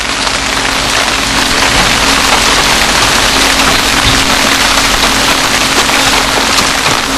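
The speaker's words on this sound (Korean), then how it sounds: "우거진 대나무를 적시며 내리는 나직한 빗소리가 깊은 산중임을 말해줍니다" Gentle rain falling steadily on dense bamboo in a deep mountain setting, a constant, close, hissing patter with no pauses and a faint low hum beneath.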